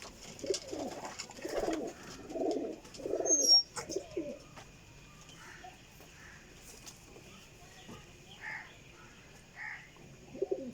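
Pigeons coo in soft repeated bursts at a pigeon dealer's place, several low throaty calls close by early on and then sparser, with a few faint chirps and quiet background noise.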